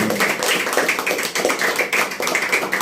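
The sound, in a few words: church congregation applauding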